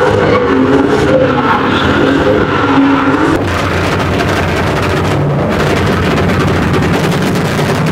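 Custom club truck with a swapped motor revs hard nearby, a loud roaring engine note that rises and holds, then drops into a rougher, lower rumble partway through.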